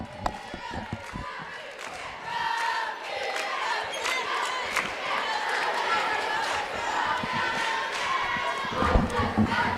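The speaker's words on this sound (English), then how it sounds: "let's just stay right here and watch the Broken Bow Savage cheerleaders perform" Crowd noise fills a basketball gym during a halftime cheerleader performance at a girls' district tournament game: steady cheering and chatter, with an announcer's voice over it and a few sharp bounces or stomps.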